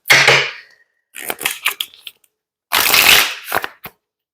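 Tarot cards being shuffled by hand, three loud close riffling bursts separated by short pauses, with a few sharp taps as the deck is squared.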